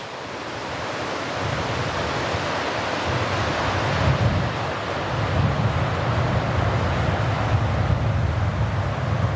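Steady, full rushing of creek water flowing over rocks, close and continuous for the whole stretch, with a low rumble underneath and no voices.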